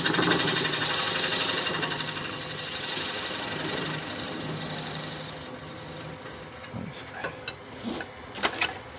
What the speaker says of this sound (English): I'm doing something slowly, and I will get my mortise cut.